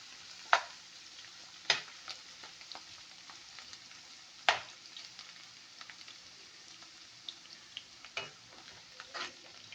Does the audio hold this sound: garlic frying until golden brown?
yes